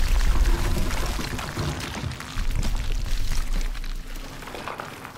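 Water sloshes and pours around a diver in the Call of Duty Advanced Warfare mission Crash, set in icy water; a loud rushing, bubbling churn with a low rumble eases and fades toward the end.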